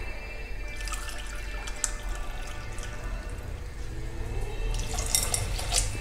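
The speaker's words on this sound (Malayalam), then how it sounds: "അപ്പോൾ ഞാൻ അതിലേക്ക് ആദ്യം ഒരു അരക്കപ്പ് വെള്ളം ഒഴിച്ചിട്ടുണ്ട്. ഇതിപ്പോൾ ഒരു കപ്പും കൂടെ ഒഴിച്ചു." Water being poured into a pot of raw rice and lentils for pongal, a steady close splashing stream with dripping that builds slightly at the end.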